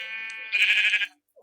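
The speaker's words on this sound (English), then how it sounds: "a baby white sheep" A baby white sheep gives one short, bright bleat, close and clear, rising out of a thin held tone and cutting off abruptly into silence.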